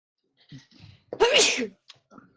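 One sharp, loud sneeze bursts out at close range in the middle, with faint murmuring voices just before and after it.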